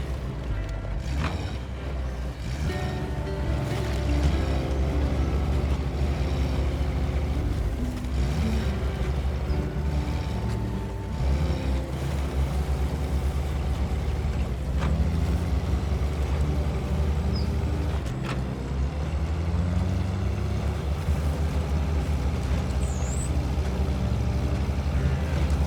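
A Gaz 66 (TUZ166) military truck in a video game drives fast off-road. Its engine gives a steady, deep, droning growl that rises and falls slightly in pitch with throttle changes and continues alone throughout.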